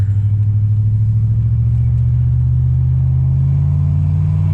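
A 2000 Ram 1500 pickup with a 4.56 gear swap accelerates onto a highway up a slight grade, its engine a loud, steady droning rumble that climbs gradually in pitch as the throttle opens further.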